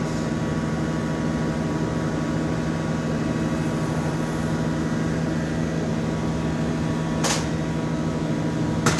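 A glassblowing furnace roars steadily while a vase is reheated at the lip, a continuous heavy hum, with one short sharp knock near the end and no speech.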